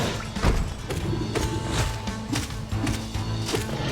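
Heavy thuds and crashing impacts from combat in Hollow Knight, an explosion landing among repeated close, punchy hits over a busy game soundscape, loud throughout.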